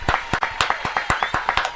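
Applause during a Brazilian morning radio show: about eight fast, loud claps in a steady rhythm, close and dry, with no voice over them.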